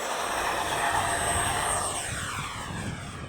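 A 64mm EDF model F-14 Tomcat jet flies by, its steady high-pitched ducted-fan whine staying loud and fairly close throughout before easing slightly toward the end.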